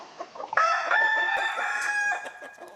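Chickens, a black cockerel and hens, close by: a few short clucks lead into a loud, drawn-out rooster crow that dominates the moment, with more clucking trailing after.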